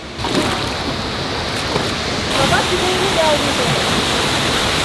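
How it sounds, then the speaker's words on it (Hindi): Waterfalls on the Kaveri river roar in a steady, loud, broadband rush, with water pouring in from all sides around the listener and no pauses across the stretch. "यहाँ पर जहाँ देखो वाटरफॉल ही वाटरफॉल है"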